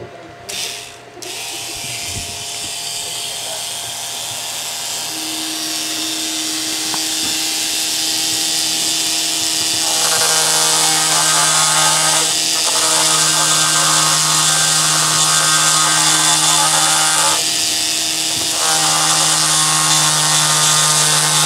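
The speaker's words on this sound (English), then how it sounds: "let me just power it up and I'm going to do a little grinding on this piece of block of metal I have" A Micro-Make Mini Flex Shaft Machine runs with a steady, loud motor whine while grinding a block of metal, the rasping grind swelling in several stretches over the constant drone.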